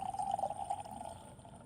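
Water is poured into a glass of spirit such as bourbon, scotch, whisky or rum, making a soft, close, steady trickle that tapers off.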